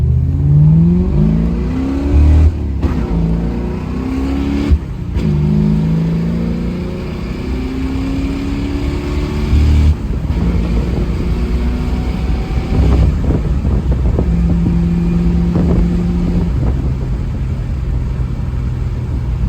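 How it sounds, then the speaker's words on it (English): A 1978 Pontiac Firebird Trans Am engine accelerates hard through several gears, pitch climbing then dropping at each shift, loud and close, with brief gaps between pulls. "Car's got excellent power. Shifts through all the gears the right way."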